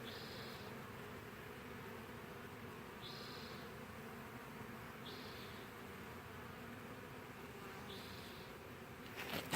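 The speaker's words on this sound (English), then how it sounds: "taking care of thousands and thousands of these bees." A honey bee swarm, seen during hiving, hums steadily and softly at close range, with a few louder buzzing passes of individual bees flying near, and no talk.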